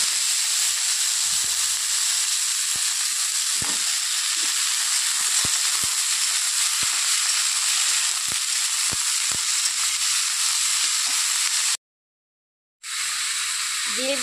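Bottle gourd peels and black cumin seeds fry in hot oil with a steady, loud sizzle that carries on throughout. Occasional clicks of stirring come through, and the sizzle briefly drops out near the end.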